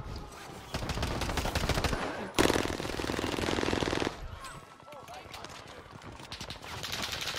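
Rapid automatic gunfire in Call of Duty Warzone on Rebirth Island, long rattling bursts from a nearby weapon, with more distant shots continuing through the clip.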